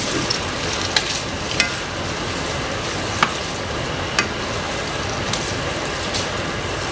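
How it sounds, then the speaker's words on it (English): Food tossed in a sizzling pan to coat it in sauce, a steady loud frying hiss broken by several light clicks and taps of the pan or utensil spaced across the stretch. "we just want to give it a toss and then get it all nice and covered in this"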